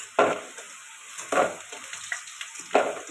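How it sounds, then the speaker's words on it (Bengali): Lentil dumplings (bori) sizzling as they fry in hot oil, with three bursts of crackling spatter as they are stirred, over a steady background hiss. "বড়িটা ভাজার জন্য একটু তেল দিয়ে দিলাম"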